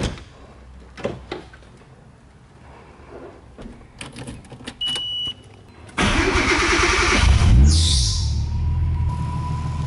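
A Nissan S13 Silvia engine cranks and catches after a few clicks and clunks, then settles into a loud, steady idle close by.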